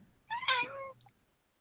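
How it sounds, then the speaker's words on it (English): A cat gives a single short meow, a clear rising-and-falling tonal cry lasting about half a second, fairly faint and slightly distant against a quiet room. "Whoa, I heard a kitty."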